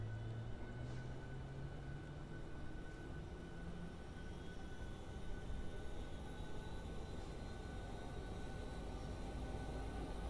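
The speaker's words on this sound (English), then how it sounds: "we're literally just spooling up APU now" An aircraft APU spools up in Microsoft Flight Simulator, a steady broadband whine and hum with a faint rising tone early on, constant and moderately loud with no voices.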